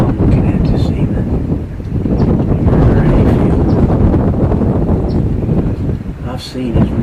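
Strong wind gusts across a Texas field on an evening hog hunt, a loud, steady roar buffeting the microphone throughout, with someone talking over it.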